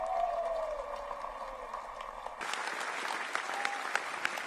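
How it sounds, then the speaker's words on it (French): A large youth festival crowd at Medjugorje applauds loudly for Pope Francis, the clapping bursting in halfway through and continuing as a dense, sustained wash with scattered sharper claps. "je vous demande d'applaudir fortement pour le pape François."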